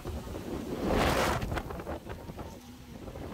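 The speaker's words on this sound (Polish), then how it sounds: "Chciałam tylko powiedzieć, że dalej wieje." Wind buffets the microphone in South Korea in a rough, roaring gust that swells then eases, with no voices.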